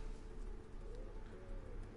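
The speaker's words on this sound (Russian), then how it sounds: "Голуби! Иди сюда!" Pigeons cooing in the video game Unravel Two, soft low repeated coos set against a muffled, noisy background, faint and brief with no talk.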